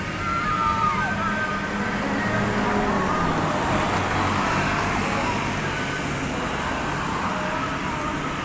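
Traffic on a Purwodadi road with a bus passing among other vehicles, a steady loud roadway rumble and hiss throughout, with brief horn-like tones early on.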